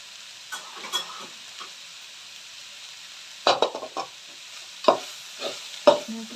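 Flattened rice (poha) chitranna stirred in a pan, a few scattered scraping spoon strokes against the pan over a faint sizzle, with louder clustered stirs in the second half.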